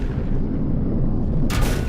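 Gunfire in the video game Volcanoids comes as a heavy, booming low rumble, with a sharp brighter blast bursting in near the end of the short clip, with no talking.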